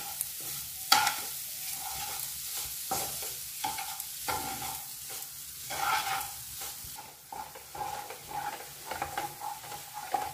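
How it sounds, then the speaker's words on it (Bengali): A spatula scrapes and stirs coconut filling repeatedly in a metal wok, with a soft sizzle underneath and an irregular rhythm of strokes close by. "নারকেলের পুরটা তৈরি করে নিচ্ছি।"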